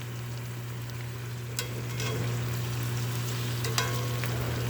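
Chicken pieces browning in a pan, a steady close sizzle and crackle of frying with a few light stirring clicks, no talking.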